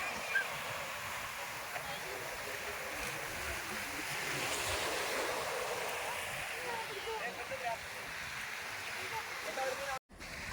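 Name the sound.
waves on a Lakshadweep beach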